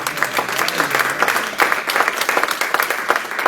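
A church congregation applauds during a teaching service. The clapping is sustained and lively, with many hands beating in dense irregular waves that sound close and fill the whole room.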